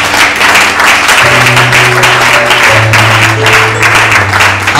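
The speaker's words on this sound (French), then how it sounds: "Acclamons l'évêque." A church crowd applauds as a bishop is called forward, dense clapping and cheering filling the room loudly and steadily from start to finish, with a sustained musical tone underneath.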